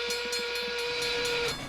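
A cartoon steam train, the number 1, pulls into a station, its loud steam whistle blowing steadily over hissing steam and a faint chuffing rhythm before cutting off.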